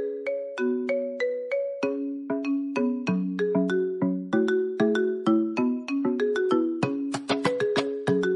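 A phone ringtone plays a bright, plucked electronic melody of quick, bell-like notes. The tune repeats steadily and loudly, close up, with no voices over it.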